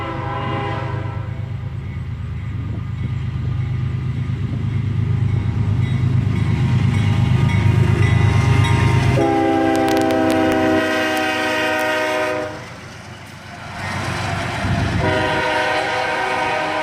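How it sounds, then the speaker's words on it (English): A CSX hopper freight train with open-top cars rumbles past loudly and close, wheels clattering, while a long, multi-tone horn blasts in two bursts over the roar, with wind noise in the background. "it's the CSX hopper train with the non-standard open hop toppers that we've been seeing a lot of these past few weeks"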